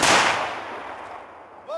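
A ceremonial rifle volley fired at a Polish memorial commemorating a Soviet crime near Smolensk: one loud, sharp outdoor crack at the start that rolls off into a long reverberating decay, with a short shouted command beginning at the end.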